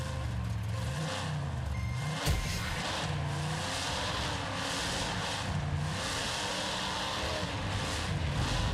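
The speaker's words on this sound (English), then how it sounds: "The biggest trucks will compete in the drag race contest, but only one can become the winner." Monster trucks roar at a drag race contest in Charleston, West Virginia, with a dense, continuous engine drone and rumble, loud throughout, and a brief sharp crack partway through.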